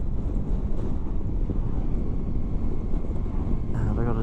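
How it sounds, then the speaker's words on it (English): Steady, heavy wind roaring and buffeting a microphone outdoors on a long motorcycle ride, continuous and loud throughout. "Been a bit bloody windy, that's for sure."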